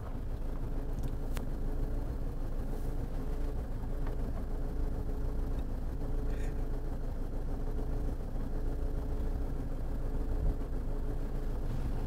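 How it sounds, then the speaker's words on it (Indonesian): A 1990s BMW 3 Series engine idling with the air conditioning off, a steady low rumble with an even hum, heard up close inside the car with no talk. "sekarang kita nyalain mesin, AC mati. Mesin udah nyala."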